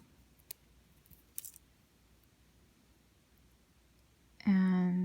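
Scissors snip through beading thread on a hexagon necklace piece, a single close, sharp cut at the end after a stretch of quiet room tone with a few faint clicks.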